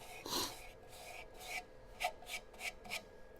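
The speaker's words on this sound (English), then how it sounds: "Something ready to sand." Sanding a wood piece by hand, a series of short, close rasping rubs of uneven spacing, about eight strokes, faint and alone.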